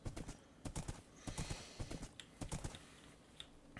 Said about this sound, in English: I went past the skeleton horses like 4 times.